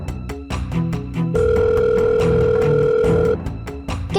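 An outgoing phone call rings unanswered, the ringback tone repeating in steady pulses with one longer held tone in the middle, set against a busy, rhythmic background.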